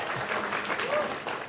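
Scattered audience clapping at a corporate award event, a brief, moderately faint burst of applause in a room, with some voices mixed in.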